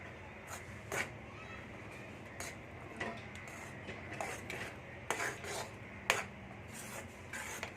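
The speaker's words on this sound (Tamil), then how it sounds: "நல்லா சிம்மில் வச்சு ரவை போட்டதுக்கப்புறம் கிண்டிக்கோங்க" Semolina (rava) being stirred in a pan for upma on low heat: soft, irregular scraping and rasping of a spoon against the pan, fairly quiet, with no talking.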